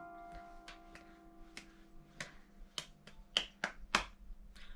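Soft hand claps tap out a rhythm during an aural exam exercise, about a dozen sharp, quiet claps in an irregular pattern that grow slightly louder toward the end, over a faint steady hum.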